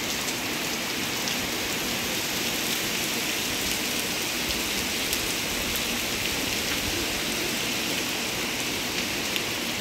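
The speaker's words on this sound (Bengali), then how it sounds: "এত পরিমাণে বৃষ্টিতে মাটি সব ভিজে গিয়েছে।" Sustained heavy rain soaks the ground around a home during a low-pressure storm, an unbroken roaring wash of drops heard without any speech.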